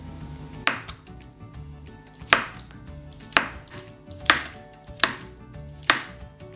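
A knife chops mushrooms on a cutting board in six sharp, separate thuds spaced about a second apart, close and clear over a quiet background.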